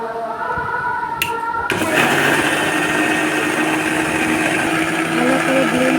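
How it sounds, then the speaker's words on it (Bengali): Whirring blender running on roasted mango sherbet, starting after a click and a short pause, then a steady, close, high motor drone that continues to the end. "ব্লেন্ড করে নিতে হবে"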